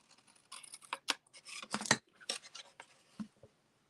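Scissors make a quick run of crisp, close snips and paper rustles while cutting a small miter in paper for a craft treat box, with short clipped bursts and no talking.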